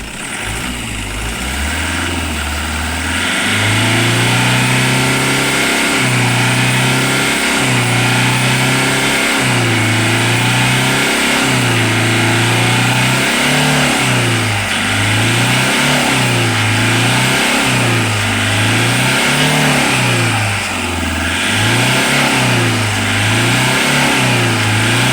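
A Toyota Hiace van with low power has its engine revved repeatedly, the pitch rising and falling in a steady rhythm of throttle blips over a loud, close idle.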